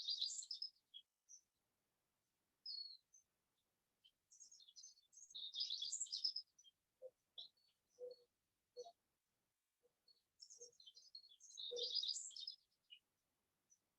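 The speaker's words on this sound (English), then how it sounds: "we're going to pick one bird sound." High, thin birdsong outdoors comes in scattered bursts of chirps and trills, with a few lower calls from another bird in between, all fairly faint and separated by quiet gaps.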